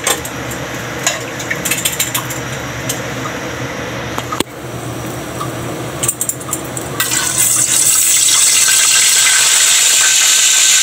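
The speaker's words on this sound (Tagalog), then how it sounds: "lagay tayo mantika guys" Cooking oil poured into a pan for sautéing ginger before octopus adobo in coconut milk, a steady liquid pour with soft clinks and a growing sizzle-like hiss that swells louder toward the end.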